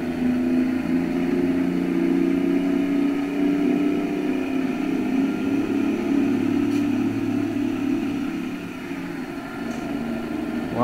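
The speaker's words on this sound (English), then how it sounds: "Wow, that revved up high enough." Heavy truck engine in American Truck Simulator droning steadily and loud throughout, with a sustained low rumble and a rise in revs, no voices over it.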